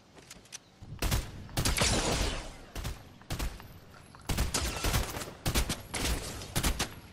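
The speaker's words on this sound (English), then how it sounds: "You know, guns are blazing." Bursts of gunfire in the Fortnite Battle Royale video game, loud rapid volleys and single shots that come in repeated clusters with short pauses between them.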